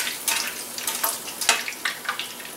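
A chile relleno fries in hot lard, giving a steady close sizzle broken by irregular crackling spurts and pops of spattering fat, with no talking.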